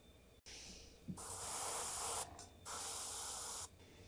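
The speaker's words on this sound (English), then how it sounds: "So I'm just gonna spray some air like in the face" Compressed air sprayed onto the face of a miniature figure, two sustained close hissing bursts with a short break between, loud against a quiet background.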